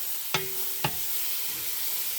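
Canned tomatoes cook in a gumbo pot with a soft steady sizzle, broken by two sharp metallic clinks of a spoon against the pot, close and quiet.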